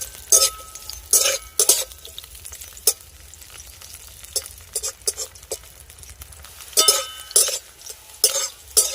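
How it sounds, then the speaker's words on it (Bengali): Vegetables, among them bitter gourd, frying in a pan for a Bengali tita dish. A spatula stirs and scrapes in irregular bursts over a steady close sizzle, with no talking. "এবার এটাকে নেড়ে নেবো"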